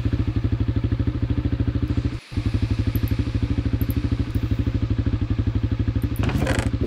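A video game dirt bike engine in Minecraft idles with a fast, steady put-put rhythm, briefly cutting out once before resuming, with a clatter near the end.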